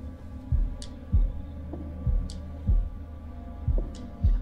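Heartbeat cue from a quick-time event in The Dark Pictures Anthology: The Devil in Me horror game: steady, deep thumping beats recur roughly every half second to second, each with a faint higher click, loud and close with no talking.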